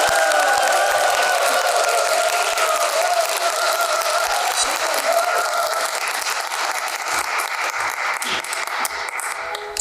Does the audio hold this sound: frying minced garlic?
no